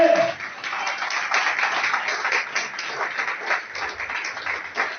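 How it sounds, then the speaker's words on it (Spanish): A church congregation applauds the Lord during a service, many hands clapping in a steady, moderately loud wash that continues for several seconds. "¿por qué no le damos un aplauso fuerte al Señor?"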